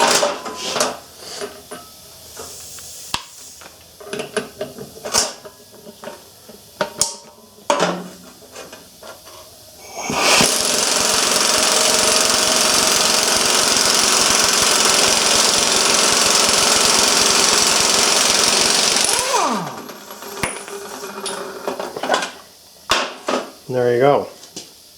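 Power drill boring a 1.25 inch hole during a wet grinder build, a sustained loud grinding whir lasting about nine seconds, framed by clanks and handling knocks of metal before and after.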